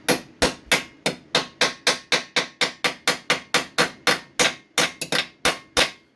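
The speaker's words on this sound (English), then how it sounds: "you be hammering like crazy on a piece of metal" Steady, forceful hammer blows on a metal RZR frame ring out one after another, about twenty sharp strikes in a brisk, even rhythm, close and loud.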